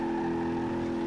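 An old engine sound from the Pessima Coupe mod, a rear-wheel-drive car resembling a Mark III Supra in BeamNG.drive, drones at a steady, even pitch, loud and unbroken for a moment.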